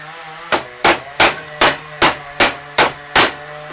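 Hammer striking nails into wood while building a DIY money storage box, eight sharp evenly spaced blows in a steady rhythm, close and loud with short ringing decays.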